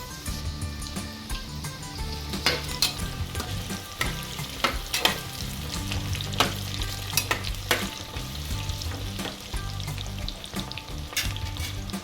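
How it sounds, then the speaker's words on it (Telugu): Carrots fry in a pan with a continuous, close sizzle, broken by repeated sharp clatters and scrapes of a spoon stirring, and no one speaks. "క్యారెట్ ఇలా వేగుతూ ఉండగానే ఇందులో ముందుగా కట్ చేసి ఉంచుకున్న ఆనియన్స్ మరియు పచ్చిమిర్చి కూడా వేసుకుంటున్నాను."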